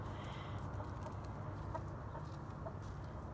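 A small flock of backyard chickens with a rooster clucks softly at a distance, scattered calls over a quiet farmyard background.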